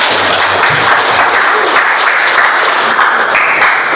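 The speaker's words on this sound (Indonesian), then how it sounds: "Kita tepuk tangan untuk" An audience at a Catholic high school gathering applauds, a dense, loud, continuous wash of clapping that holds steady throughout.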